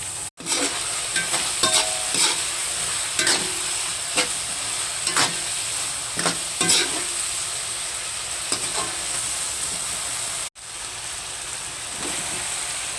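Pork sautéing in a pan gives a steady loud sizzle, with repeated scraping strokes of a spatula at an uneven pace, close up and without talking.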